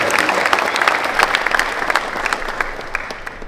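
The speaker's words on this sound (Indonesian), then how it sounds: "Mohon tepuk tangan untuk adik-adik yang luar biasa." An audience applauds schoolchildren at a gathering in a hall, with dense, lively clapping that stays steady and close before easing slightly toward the end.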